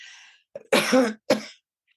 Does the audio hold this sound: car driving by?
no